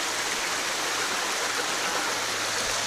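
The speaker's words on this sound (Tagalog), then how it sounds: "Ganda ng agos" Water rushes steadily over a small waterfall at Paowin mini falls, a constant close hiss and churn with no breaks, heard alone.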